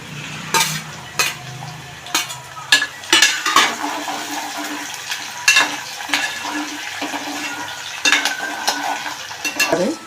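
Oil sizzles steadily in a pan as green chillies fry in a tempering, while a utensil stirs and scrapes repeatedly, with sharp metallic clinks scattered throughout.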